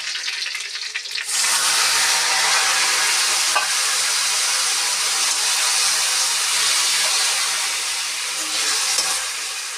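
Onions and tomatoes fry in a pan for an Odia cauliflower curry. After a quiet start there is a sudden loud, steady sizzle and hiss with faint stirring scrapes, close and continuous, with no voices.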